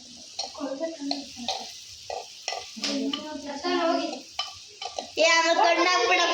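Food fries and sizzles in a clay pot, with bursts of stirring and crackling that grow louder toward the end, while people talk over it.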